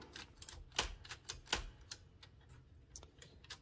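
An Empire No. 2 thrust action typewriter from 1914–1922, a two-row German-layout machine still uncleaned, types a quick irregular run of sharp metallic keystrokes, faint and alone.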